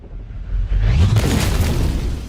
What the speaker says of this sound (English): so the attackers throw a hand grenade